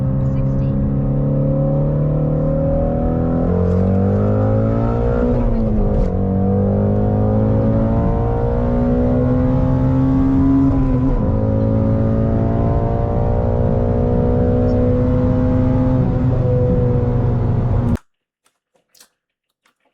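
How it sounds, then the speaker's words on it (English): A big American muscle car V8 engine revs and rumbles loudly and close, pitch rising and falling through several throttle surges, then cuts off abruptly. "The thing I like about it the most is probably the engine sound."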